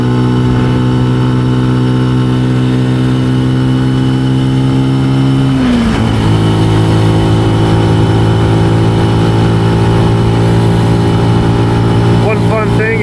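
Benelli TNT135 motorcycle engine runs steadily with a strong, loud mid-pitched drone, holding one speed, then dropping to a lower steady note about halfway through and carrying on close and continuous to the end.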